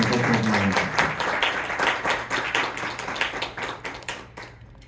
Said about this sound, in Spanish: Recibamos al doctor con un gran aplauso